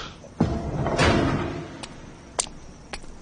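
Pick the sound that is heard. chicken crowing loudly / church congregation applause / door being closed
door being closed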